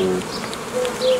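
Honeybees hum at an open hive while frames of brood and bees are moved during a spring colony split, a steady close buzz with faint tonal whines rising and falling, no voices.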